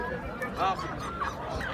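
Geese honk a few times amid a busy Kırıkkale poultry market selling chickens, roosters, turkeys and geese, short nasal calls rising over murmuring voices and market bustle.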